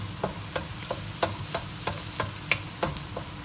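Onion frying in a pan for beef fried rice, a steady close sizzle broken by evenly spaced scraping stirs roughly every third of a second.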